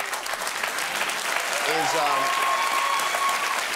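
Studio audience applause swells into a steady, full clapping that carries through the whole stretch, with a short spoken word heard over it near the start.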